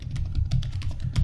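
Close, rapid keystrokes tap out an irregular rhythm on a computer keyboard, with no voices.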